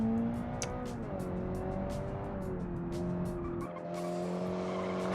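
A light sports car in the racing game Automation brakes hard on a racetrack, engine note dropping as the tires squeal steadily, with a rapid rhythmic clatter over the drone and a sudden downshift near the end.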